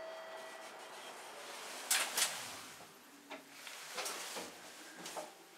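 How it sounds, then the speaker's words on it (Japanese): An Otis-made elevator door slides shut at JR Kasuga station on the Kagoshima Main Line, giving a quiet mechanical rolling with soft clunks and ticks over faint hum. "ドアが閉まります"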